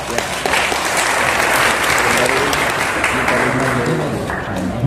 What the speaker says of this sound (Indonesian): Tepuk tangan untuk Profesor.